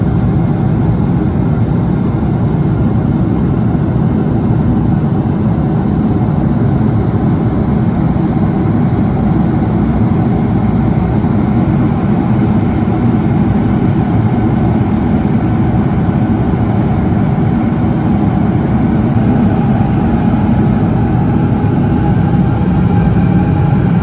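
Steady, loud jet engine roar from a GE90-powered airliner on a Philippine Airlines flight to Luzon, a continuous low rumble heard from inside the cabin for the whole stretch with no talking.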